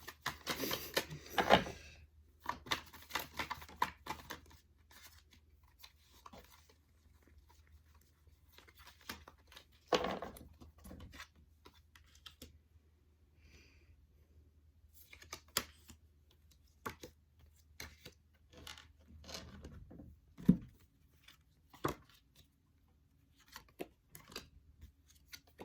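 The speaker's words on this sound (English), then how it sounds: "I don't know why I'm struggling to shuffle today." Cards are shuffled in scattered bursts of riffling and snapping, separated by quiet pauses, close and soft with occasional sharper flicks.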